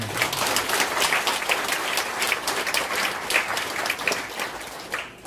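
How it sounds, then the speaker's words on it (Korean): A church congregation applauds at a pastor's installation and retirement service, dense sustained clapping from many hands filling the room, steady and loud before tapering at the end. "박수로 영광을 올립니다."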